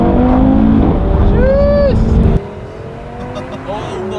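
An Audi TT RS accelerates hard to 60 mph, the engine roaring loud and rising in pitch before an abrupt shift drops the note, with a voice speaking over the drone.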